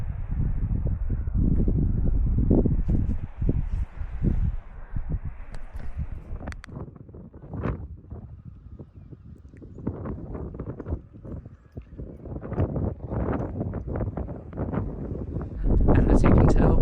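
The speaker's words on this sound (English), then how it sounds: "as you can tell, it's a little bit windy" Gusty wind on the island of Guernsey buffets the microphone in low rumbling bursts, with intermittent clopping and rustling sounds mixed in throughout.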